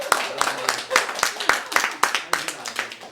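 Several people clap in a small indoor setting during a stock trading discussion, a moderately loud run of irregular hand claps lasting about three seconds, with voices mixed in.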